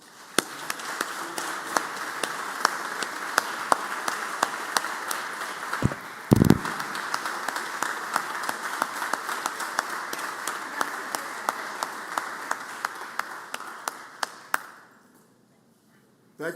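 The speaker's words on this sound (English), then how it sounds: "let's give all of this year's awards recipients another round of applause" Sustained applause fills a state senate chamber, many hands clapping steadily for about fifteen seconds with sharp individual claps standing out, then fading out abruptly.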